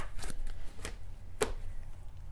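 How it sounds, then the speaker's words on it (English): Tarot cards being shuffled by hand, several soft riffling bursts and taps, close but faint over a steady low room hum. "Nope, I have to shuffle one more time"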